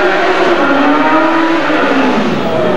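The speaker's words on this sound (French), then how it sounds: "On voir qu'il y a un moteur qui est un peu bizarre" Car engine with an odd, uneven note during a 1991 car chase in Villeneuve-sur-Lot, revving loudly and steadily up close for a few seconds, with no talking.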